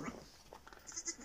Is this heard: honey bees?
no